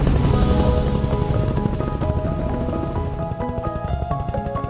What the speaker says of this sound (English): The helicopter ride is exhilarating.